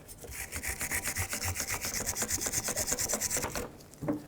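A rear brake bracket from a 2008-2010 Ford F-250 being sanded flat, giving a steady, close rhythmic scraping and rasping of repeated strokes that stops near the end.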